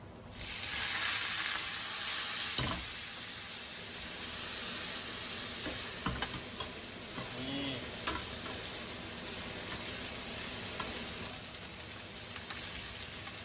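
Pork belly stir-frying with Brussels sprouts, chili and garlic in a pan, a steady close sizzle with occasional utensil clicks and scrapes running throughout.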